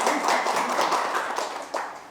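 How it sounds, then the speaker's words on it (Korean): Audience clapping during a Buddhist lecture on the Ksitigarbha Sutra, a steady close patter of many hands that carries on for a couple of seconds and then thins out. "박수 칠 타이밍이 아니었는데,"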